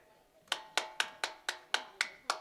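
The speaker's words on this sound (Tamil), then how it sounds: "விளையாட்டு போட்டிக்கு இப்படி தான் கைதட்டுவாங்க" Seven crisp hand claps follow in a steady, even rhythm after a brief quiet start, each sharp and close with a short decay.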